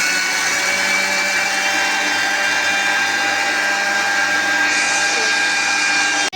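Pakora batter fries in hot oil, making a loud, constant, hissing sizzle that holds steady throughout and cuts off abruptly at the end.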